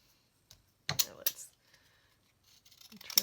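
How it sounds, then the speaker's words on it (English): Ripple-edged craft scissors trimming a scrap of paper, a couple of sharp close snips followed by quieter crisp cuts, with no talking over them. "These are just the ripple scissors."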